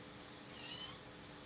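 A pet cat gives a single drawn-out meow partway through, fairly close but quiet, over a soft room hiss with no one talking.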